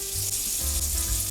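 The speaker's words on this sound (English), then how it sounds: "So what I do to cheat is I put some hot water in this." Hot water pours over shrimp in a bowl, a close, continuous sizzling splash that stays loud and even for about a second before trailing off.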